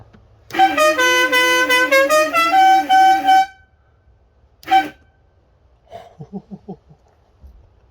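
A loud, multi-tone train horn fitted on a car blares for about three seconds, then a short second blast follows, and a brief quieter honking pattern comes after a pause.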